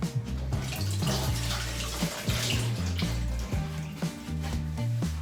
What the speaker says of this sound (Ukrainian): Миємо ручки обязательно.